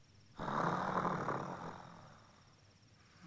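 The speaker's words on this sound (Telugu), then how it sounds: "వీడు మళ్ళీ గురక పెడుతున్నాడు రా" A sleeping man lets out one long, rasping snore that swells and then trails off, fairly faint and close by.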